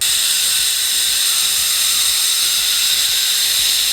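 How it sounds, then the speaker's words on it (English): A pressure cooker hisses steam while stew peas with pigtail cook, Jamaican style: a loud, steady broadband hiss that runs unbroken, close by, with no talking. "For Jamaicans, a pressure cooker is one of the most intimidating and the most scary cooking apparatus known to man."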